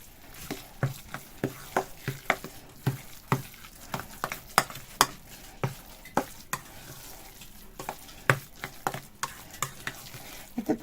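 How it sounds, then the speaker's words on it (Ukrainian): Forshmak spread ingredients mixed in a bowl: quiet, irregular scraping and soft tapping of a utensil, close up, with no talking. "Добре це все вимішуємо."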